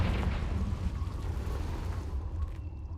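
A Confringo fire spell blasts in Hogwarts Legacy, a heavy booming burst with rumbling low end that decays over a few seconds, loud and close, without talk.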